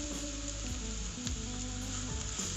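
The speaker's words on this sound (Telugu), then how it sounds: "ఒక 5 నిమిషాలు వేయించుకుని పక్కకు తీసుకుంటే మష్రూమ్ పెప్పర్ ఫ్రై రెడీ అయిపోయినట్టు" Mushrooms fry with pepper powder in a pan at home, giving a steady, close sizzle with occasional soft scrapes of stirring throughout.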